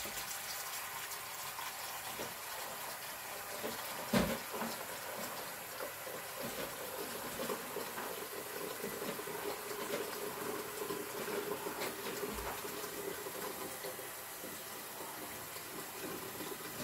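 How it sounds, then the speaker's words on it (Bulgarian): Tap water runs steadily into the inner pot of an Instant Pot pressure cooker, a continuous moderate rush with a couple of brief knocks and clunks along the way, with no voices. "И пълните уреда с вода до половината."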